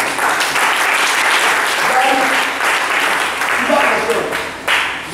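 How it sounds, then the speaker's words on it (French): A church congregation applauding during a sermon, with a dense, sustained burst of clapping that swells and fades over a few seconds, with some voices mixed in. "Acclamons la parole."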